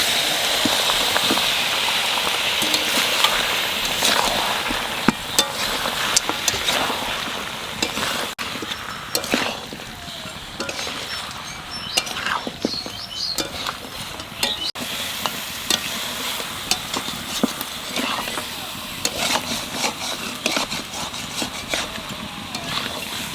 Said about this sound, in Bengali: এবার সেদ্ধ করা মাংসটা এর মধ্যে দিয়ে দেবো